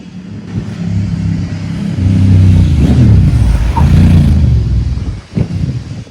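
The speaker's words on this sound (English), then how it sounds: "one of the best sounding exhausts and engine bike combos" A 2025 Honda Africa Twin motorcycle fitted with an Akrapovic racing exhaust revs up from a deep idle into a loud, sustained throaty roar, then drops back with a short blip, heard close and alone.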